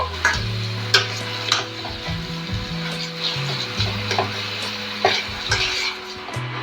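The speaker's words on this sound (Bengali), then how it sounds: "মশলার সাথে ভালো করে আলুটা কষে নেব।" Spiced potato masala being stirred and fried in a pan, with repeated scraping strokes against the metal over a steady sizzle, loud and close, no voices.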